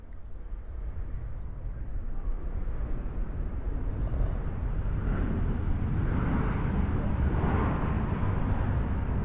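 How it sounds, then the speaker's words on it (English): Jet aircraft engine roaring steadily at an airport, a loud continuous broadband rumble that swells slightly toward the middle and stays strong throughout, with faint chirps above. "we're at the airport. That's why you hear the jet."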